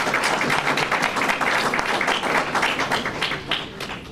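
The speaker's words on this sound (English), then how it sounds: "And you can clap for that" Audience applause at a city renewable energy procurement announcement, a dense, steady wash of many hands clapping that holds for about four seconds and eases slightly near the end.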